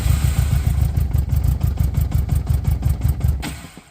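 A 1981 Honda Goldwing motorcycle engine cranking on a cold start after months of sitting: a loud, close, rhythmic chugging of the starter turning the engine over without catching, then stopping abruptly near the end.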